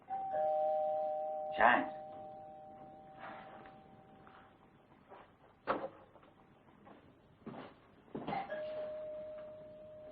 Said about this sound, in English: You like them chimes, don't you